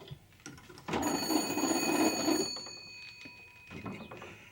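An old telephone is cranked to reach the operator, giving a ratcheting mechanical whir with a bright ringing tone for about a second and a half, followed by fainter clicks.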